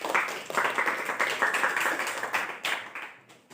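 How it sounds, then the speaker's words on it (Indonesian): A classroom of students claps together in an enthusiastic burst of applause during a school performance, loud and close, then gradually thins out and fades toward the end. "Beri tepuk tangan."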